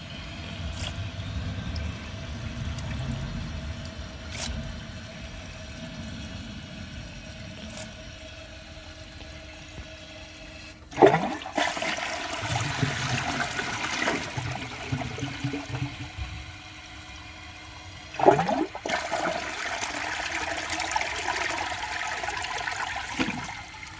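A Vortens Vienna toilet with a clog runs a steady quiet refill hiss and trickle with faint tones, then flushes twice with loud rushing water about eight seconds apart, close up.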